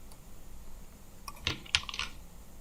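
Computer keyboard typing a SQL query, a short burst of a few quiet clicking keystrokes against a faint background hiss.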